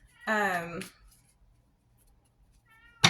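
A single drawn-out meow sounds up close and fairly loud, followed by near silence and a brief noise at the very end.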